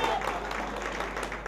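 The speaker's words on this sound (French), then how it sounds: "On va applaudir très fort pour le trio" A ceremony audience applauds a performing trio, a brief, fairly soft wash of clapping throughout.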